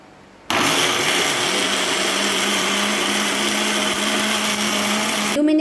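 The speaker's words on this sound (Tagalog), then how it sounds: "Minutes lang po natin siyang blinen para ma-juice lang natin yung ating pomegranate." A blender whirs steadily for about five seconds, blending pomegranate seeds with a little water into juice, starting abruptly after a brief quiet moment and cutting off near the end; loud, continuous motor drone with no talking.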